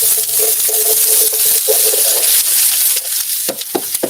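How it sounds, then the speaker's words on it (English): Food sizzles steadily in a hot pan with a dense crackling hiss, followed by a few sharp pops and spits near the end. "Hear the sizzle and the pop."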